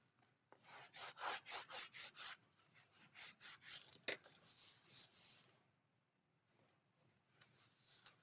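Glued paper burnished down onto a 7x9 mini album with a tool, giving a run of close, rhythmic rubbing strokes, then a sharp tap and quieter scattered rubbing; no talking.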